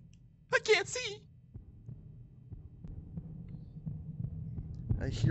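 Heartbeat in a Backrooms horror video game, a faint low thumping pulse with a steady hum that grows gradually, following a brief burst of voices near the start and again at the end.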